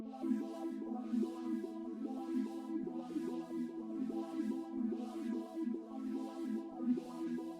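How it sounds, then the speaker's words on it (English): A synthesizer preset from an Analog Lab bank plays a looping melodic pattern of warm, tonal notes in a steady rhythm. It sounds soft and close, with no voices. "So next I grabbed this other preset from my new Analog Lab bank"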